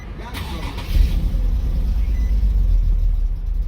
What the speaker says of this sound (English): The car start and doesn't go nowhere.